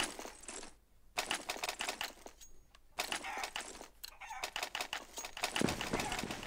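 A chicken clucks in the Counter-Strike map de_cobblestone during a tournament match, with bursts of squawking and fluttering in several close, loud runs broken by brief pauses, no speech over them.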